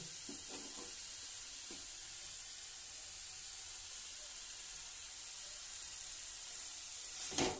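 Vegetables with a little water sizzle and hiss quietly in a pan as they are stirred, with a few soft scraping strokes early on and a brief louder spray of steam near the end; faint and steady.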